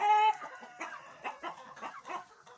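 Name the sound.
Light Sussex chickens clucking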